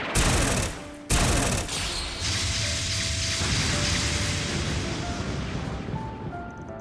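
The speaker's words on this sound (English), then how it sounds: "An enhanced needle gun!" An enhanced needle gun fires in the video game Trails beyond the Horizon, opening with two sharp bursts and then a sustained, dense rattling volley of rapid shots that keeps going without pause.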